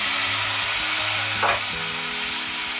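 Apples cook in a pan with a splash of water, giving a loud, steady sizzle and bubbling hiss with a brief burst of spitting midway, stirred by a utensil, no voices.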